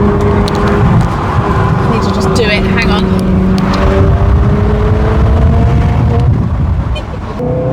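A Ferrari 360 Spider's engine roars loud and close, its pitch rising and holding as it revs, while someone talks over it.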